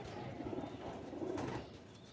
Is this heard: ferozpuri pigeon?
yes